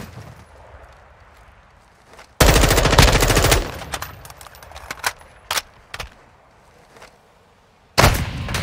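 Call of Duty gunfire rattles out in a loud sustained automatic burst, followed by scattered single semi-automatic shots and another burst at the end.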